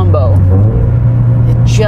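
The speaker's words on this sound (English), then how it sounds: "If you want a loud exhaust, you know, header, mid-pipe, cat-back, this is a fantastic combo." A Scion FR-S/Subaru BRZ with a Cosworth power package and a header, mid-pipe and cat-back exhaust gives a loud, steady low drone close by, heard over someone talking.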